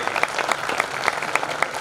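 Brief rhythmic audience applause at a Hindi kavi sammelan poetry recital in Vidisha, steady claps from a crowd, loud and close with no talk.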